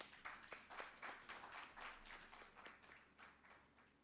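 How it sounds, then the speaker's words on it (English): Scattered clapping from a small crowd at a gala dinner, faint and thin, a steady patter of hand claps without cheering. "A round of applause, please."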